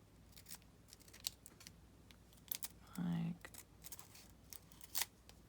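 Scissors make a diagonal cut in paper for altered paper clips in a junk journal. A few crisp snips sit close by alongside soft clicking, and a voice speaks quietly around them.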